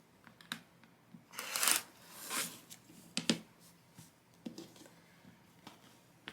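Scissors or a cutter slicing a 10-inch fabric square in half for quilted coasters, a few close, crisp snipping and rustling bursts separated by quiet pauses.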